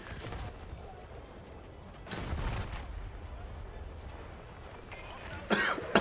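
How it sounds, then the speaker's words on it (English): A man with a sore throat coughs a few times, sharp bursts near the start, middle and end, over the low rumble and distant gunfire of a Battlefield 6 multiplayer match. "Sorry about the coughing."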